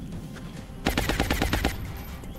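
A short, sharp burst of about eight rapid machine-gun shots lays down suppressing fire in XCOM Enemy Within, loud and close, cutting off after under a second amid faint background noise.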